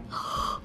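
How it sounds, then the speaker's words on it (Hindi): A single short yawn-like breathy exhalation from a woman, close and soft, lasting under a second with no other sound. "तभी उबासी लेते हुए"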